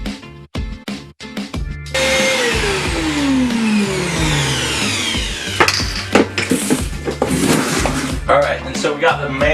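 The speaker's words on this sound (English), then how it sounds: "Alright, so I'm going to hook up the vacuum." A vacuum hooked up to a clogged household dryer vent roars steadily after a few sharp clunks, its motor pitch sliding down as it pulls lint, with scraping and bumps throughout.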